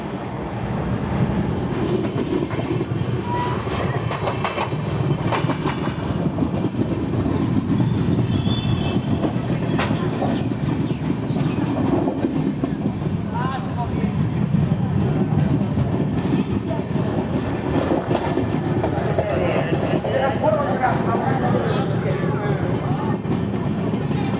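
The Visakhapatnam–Mumbai LTT SF Express runs steadily, with a loud continuous rumble of wheels on track and occasional squeals, heard from inside the moving train with no pause.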